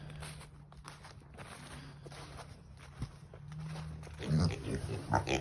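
Pigs file out of their shelter on a bitterly cold day, with shuffling footsteps and low grunts that grow louder and closer toward the end over a steady background hum.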